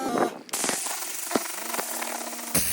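A hard hiss of compressed air from an air compressor blows steadily onto a car trunk rug for about two seconds, with short sharp bursts at the start and end.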